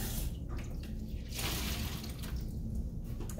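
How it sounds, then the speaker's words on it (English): Fresh water runs from a sink tap over a clay-filled sponge as it is rinsed, a steady, close, continuous rush with no talk. "So squeeze it out and then rinse it with fresh water, which you can't see, but maybe you can hear."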